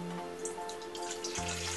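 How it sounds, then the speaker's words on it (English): Hot water, 225 milliliters, pours into a mixing bowl, a steady close splashing and trickling hiss lasting the whole moment with no talking. "in our mixing bowl, you're going to pour your hot water."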